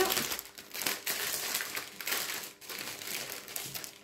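Crinkly plastic packets of diamond painting drills rustle and crackle up close as they are handled and torn open, in quick irregular bursts of fairly quiet crumpling.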